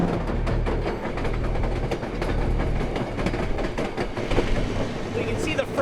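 White Pass & Yukon Route train running on the rails near a tunnel, a loud, continuous rumble with rhythmic clickety-clack from the wheels, heard up close with speech over it.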